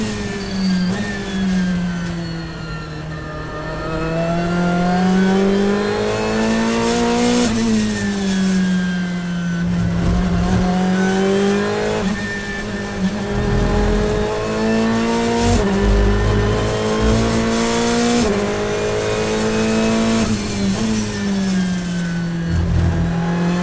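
A race car engine on board at the Mugello circuit, loud and continuous, rising through the gears with repeated upshifts and braking dips over more than twenty seconds.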